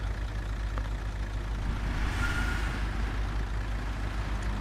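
A truck in Construction Simulator idles with a steady, low, rumbling engine drone and a brief hiss midway, heard alone without talk.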